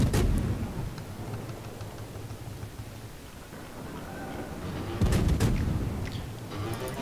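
Low rumbling thunder from a storm in a video game, with broad booming swells near the start and again around five seconds over a steady dark background.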